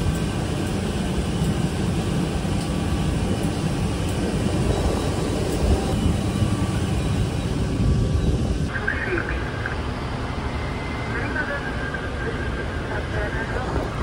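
A steady, loud roar of an airliner with Rolls-Royce engines fills the whole stretch without a break, heard as continuous broadband rumble and hiss from the aircraft's surroundings.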